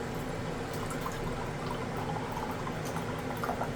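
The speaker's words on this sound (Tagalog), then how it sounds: "Lagyan ko muna ng tubig." Water poured into a coffee maker, a steady close liquid trickle running evenly for a few seconds without talk.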